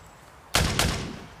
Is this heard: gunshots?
yes